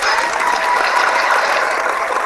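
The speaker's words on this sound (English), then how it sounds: "Let's give Bedeye a round of applause as well." Applause from a room audience at a boxing talk show, a steady dense wash of clapping that holds evenly throughout at close range without any talk over it.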